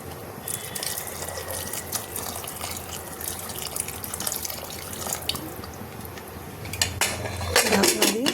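Water pours into a pot of ghugni in a home kitchen, a steady running splash with scattered clinks of metal utensils and pot, growing louder toward the end.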